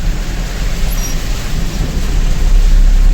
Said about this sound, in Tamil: நல்லா செம்ம மழை பெய்யுது.